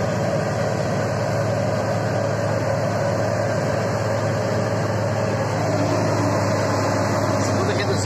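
A dump truck engine labors in low second gear, a loud, constant low drone heard from inside the cab that holds steady throughout.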